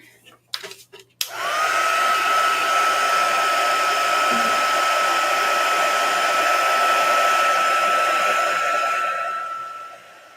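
A handheld hair dryer, used to dry a craft piece, clicks on after a few brief handling knocks and then blows with a loud, steady whoosh and a constant whine for several seconds before winding down.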